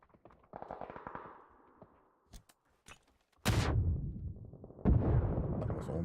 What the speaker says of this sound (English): That was almost a good nade.